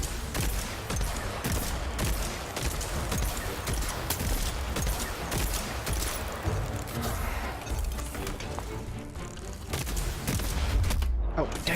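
A monster in Dauntless fires bolts in a rapid, dense barrage of cracking, gunfire-like blasts that continues unbroken through the clip, with a voice talking underneath.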